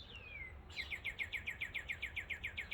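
A bird calls in a fast, evenly spaced series of about a dozen loud chirps that mimic a car alarm, preceded by a brief downward whistle, with faint ambient hum underneath.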